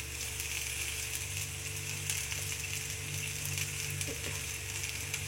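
Chopped fenugreek leaves sauté in a pan with a constant soft sizzle and occasional light stirring clicks, steady and close with a faint low hum beneath.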